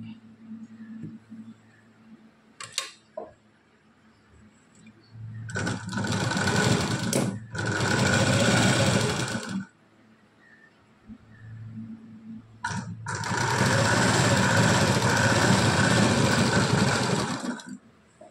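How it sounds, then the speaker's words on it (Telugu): A sewing machine double-stitches blouse pieces together in two long, loud runs, with a few brief bursts of stitching and quiet handling in between. "సేమ్ ఇది కూడా డబుల్ స్టిచ్ వేసుకోవాలండి"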